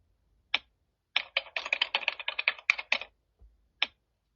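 Someone types on a computer keyboard while entering an Excel formula: a single tap, a fast cluster of about a dozen crisp key clicks, then one last tap, close and quiet.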